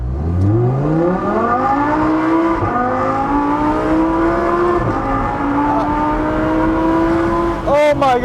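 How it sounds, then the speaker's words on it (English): An original Audi R8 V10 Spyder accelerates hard, its exhaust rising in a loud, climbing howl through successive gear changes with brief dips between shifts, ending in a sharp burst of revving. "Hopefully you guys can hear the exhaust and how amazing it sounds."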